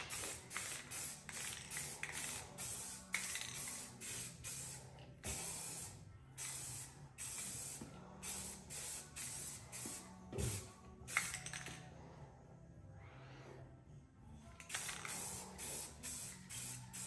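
Rust-Oleum metallic bright coat spray paint going onto the wheels of a 30-year-old Wheel Horse garden tractor, rapid repeated short hissing bursts from the can, fairly faint and close, with a few pauses and a clunk.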